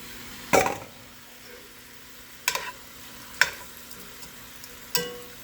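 Sliced peppers and onions hit a hot pan for Cajun chicken pasta, giving four separate bursts of sizzling and stirring, each sharp at the start and fading quickly, with quiet gaps between.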